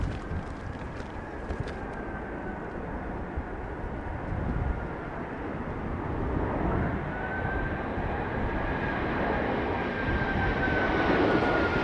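Airbus A380 landing at London Heathrow during a storm, its engines a broad, steady roar that holds for the whole stretch, with wind noise mixed in and a faint rising whine near the end.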